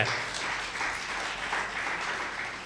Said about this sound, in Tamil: ஹியூமர் கிளப்பு சேகருக்கு ஒரு கைத்தட்டு கொடுங்க